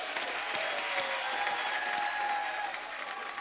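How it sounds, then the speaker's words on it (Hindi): A studio audience on a Hindi comedy talk show breaks into steady, sustained applause, a dense even wash of many hands clapping that holds at a constant level throughout. "जोरदार तालियां हो जाएं।"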